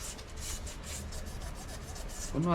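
Steady dry rasping strokes, like sandpaper rubbed over wood, continuing evenly throughout, with a brief voice-like tone at the very end.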